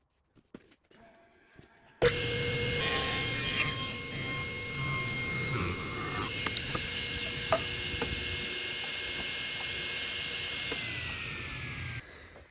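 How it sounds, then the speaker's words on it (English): A saw fitted with a rip blade cuts a thin eighth-inch slice from hard Bubinga wood, starting abruptly with a loud, steady whining hum and cutting noise that runs about ten seconds before stopping. "rip blade to give me a 1/8 inch slice of Babinga. It's rather hard."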